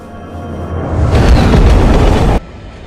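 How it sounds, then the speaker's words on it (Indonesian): A train passes on rails, building into a loud, heavy rumble that holds for over a second before cutting off abruptly. "Guru yang melihatnya berlari di sisi kereta dan terus memohon pada Aisyah untuk tidak meninggalkannya."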